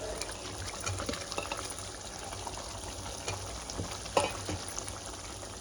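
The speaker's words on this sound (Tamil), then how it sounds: "இது கொஞ்ச நேரம் நல்லா கொதிக்கட்டும்." Paneer gravy simmering in a pan, a steady soft bubbling and sizzling texture with small pops throughout, nobody talking.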